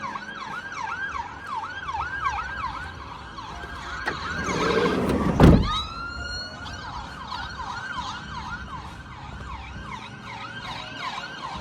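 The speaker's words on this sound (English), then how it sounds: "No, it's an ambulance." A wailing ambulance siren sweeps up and down repeatedly over steady traffic noise on a street in Greenock, Scotland, with a brief loud rumble of a passing vehicle midway.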